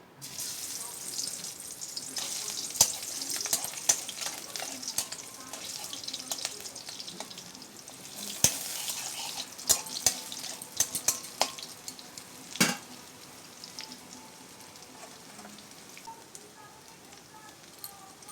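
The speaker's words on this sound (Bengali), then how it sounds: "রসুনগুলো ছাড়িয়ে নিচ্ছি রসুন ফোড়ন দিয়ে দিচ্ছি" Garlic tempering fries in oil in a pan, a faint, soft sizzle running throughout, broken by sporadic sharp clinks and pops from stirring.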